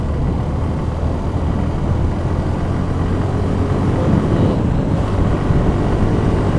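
Motorcycle engine braking after a downshift, a steady low engine drone mixed with wind rush, continuous and close with no talk.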